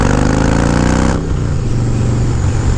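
Loud motorcycle engine revving hard with quiet exhaust baffles fitted, a steady harmonic roar that drops abruptly to a lower, rumbling idle partway through, close and alone.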